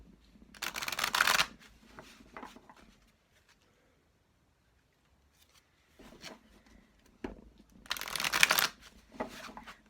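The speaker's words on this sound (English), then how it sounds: "I'm shuffling them rather thoroughly" Two bursts of brisk oracle card shuffling, riffling and flapping close by, separated by a quiet pause with a few soft taps.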